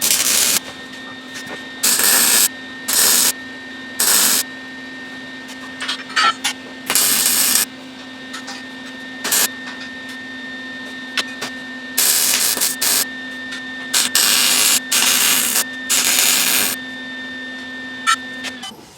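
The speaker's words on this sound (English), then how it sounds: "So we'll go ahead and get that welded right quick." Steel being arc welded on a pull-behind boom sprayer frame during an off-road build, with repeated bursts of crackling, hissing welding of a few seconds each, separated by pauses and set against a steady background hum.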